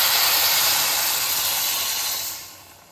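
Water hitting a hot pan while Bombay saagu cooks with coriander powder, rock salt and chilli powder, giving a loud steady hiss and sizzle that fades over the last half second; no talking.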